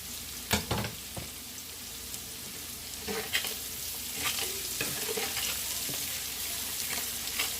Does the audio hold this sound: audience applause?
no